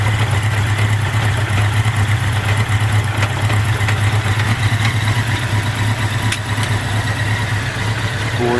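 A 1983 Honda Nighthawk 650cc motorcycle engine runs in third gear, a loud, close, steady drone holding an even pitch for the whole stretch, with no talk.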